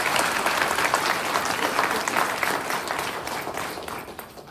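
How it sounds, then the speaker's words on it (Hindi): Enthusiastic applause from a large crowd at an Aam Aadmi Party gathering after an election loss, a dense, continuous roar of clapping that fades slightly toward the end. "मैं उसके लिए एक बार चाहता हूँ, एक बार जोरदार तालियां।"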